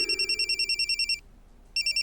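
A telephone rings in a Hindi police drama, a rapid electronic trill in pulsed bursts that stops briefly and then starts again, clear and close with no talk over it.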